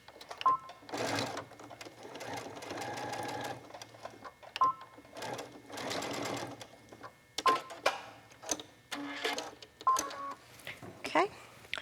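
Sewing machine stitching a sturdy fabric bag handle, running in several short bursts separated by pauses, with faint clicks between runs and no speech.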